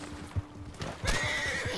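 A horse in Red Dead Redemption 2 gives a sharp neigh and whinny amid gunfire, with hoof clip-clops and a thump nearby, fairly close and loud against the game's background.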